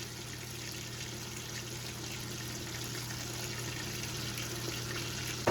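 Filippo Berto white wine vinegar poured in a small splash while making a pasta salad, a steady, faint, continuous liquid hiss that runs unbroken without any talk.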